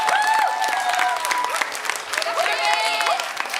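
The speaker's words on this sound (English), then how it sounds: "We can all give you a round of applause." A congregation at a religious school Shabbat service breaks into warm applause, a dense, close clatter of many hands clapping steadily throughout.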